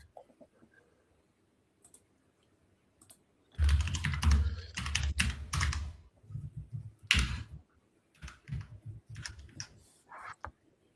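After a near-silent start, close keystrokes and clicks on a computer keyboard rattle in dense bursts, fading to scattered taps toward the end, with no voices.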